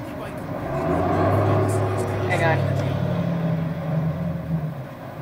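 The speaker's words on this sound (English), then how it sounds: "I don't know if you guys could hear that, but there was a massive truck" A massive truck passes by, a loud low engine drone that swells and lingers for several seconds before easing, with talk partly overlapping.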